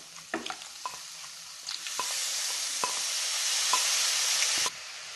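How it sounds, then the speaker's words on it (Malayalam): Prawns frying in a pan with turmeric and coriander powder, a steady bright sizzle that swells and holds, punctuated by scattered clinks and scrapes of stirring before it cuts off sharply near the end. "മഞ്ഞൾപ്പൊടിയും മല്ലിപ്പൊടിയും കൂടെ ചേർത്ത് 1 മിനിറ്റ് നന്നായിട്ട് വഴറ്റണം."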